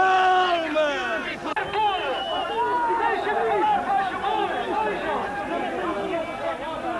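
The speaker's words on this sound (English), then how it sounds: "The officers' appeals for silence were howled down by the crowd" Angry crowd in a 1974–75 Portuguese revolutionary street protest shouting and jeering, a dense roar of many overlapping voices with rising yells, loud and sustained throughout.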